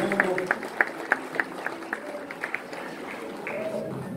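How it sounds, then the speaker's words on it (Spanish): An audience at a folk music performance in Quito applauds the musicians, with a few sharper claps standing out of steady moderate clapping while voices and music murmur underneath. "Por favor, les aplaudimos"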